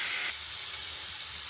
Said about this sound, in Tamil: இப்போ நம்ம மல்லி இலையை போட்டு வதக்கிக்கலாம்.